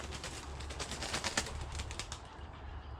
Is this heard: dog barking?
no